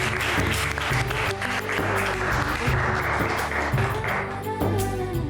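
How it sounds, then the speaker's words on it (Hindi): Loud, steady applause from a group of students clapping for their teacher Renuka at school, continuous and close throughout without pause. "तो आपकी रेणुका टीचर के लिए जोरदार तालियां।"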